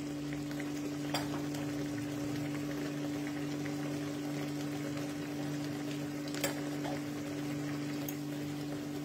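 Water simmers in a covered pan on the stove, a faint, steady bubbling under a constant low hum, with a couple of soft clicks.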